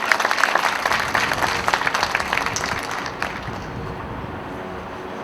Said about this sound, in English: So just to give yourselves a round of applause.